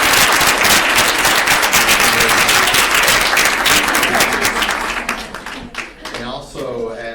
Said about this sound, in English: I'd like to give a big round of applause to Cinda for her philanthropy.